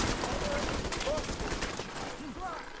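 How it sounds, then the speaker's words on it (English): Rapid, dense bursts of gunfire in The Division 2's occupied Dark Zone, with explosive and fire rounds cracking in quick, overlapping volleys that run throughout at a steady, loud level. "they were using explosive bullets and fire bullets"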